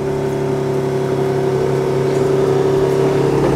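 Infiniti Q50 engine idling steadily just after start-up, a continuous close, fairly loud hum with a constant low drone throughout and no voices.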